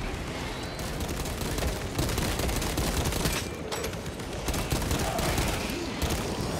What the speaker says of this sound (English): I want to use the pistol